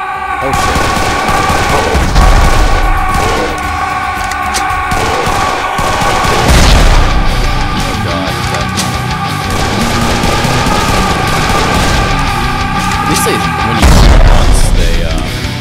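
Heavy gunfire at enemies in Serious Sam 3: BFE pounds on steadily, with dense rapid shots and several deep booming bursts across the stretch, loud and close.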